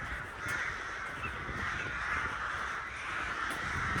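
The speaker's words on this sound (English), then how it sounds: "they're called a murder of crows for good reason" Crows caw as they fly around a street, sounding faint and somewhat distant over a constant hiss of outdoor background noise, with a few harsh calls scattered through the stretch.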